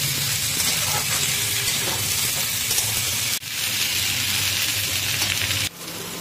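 Tender vegetable stalks and shrimp fry in a pan in Bengali home cooking, giving a steady, close sizzle and hiss that runs throughout, with two brief dips in the noise.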